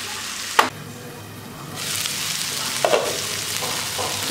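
Tomato and ginger-garlic paste fry in a pan with a close, steady sizzle that swells partway through, broken by a few light spoon clinks and scrapes and no speech.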